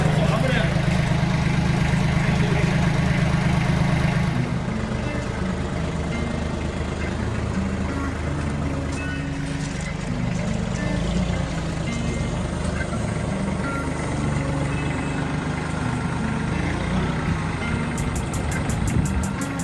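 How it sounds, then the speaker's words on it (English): A tractor engine drones steadily while a heavy load is lowered slowly, loud and close, with a faint reversing-style beeping at the end. "I'm hoping this tractor can do it"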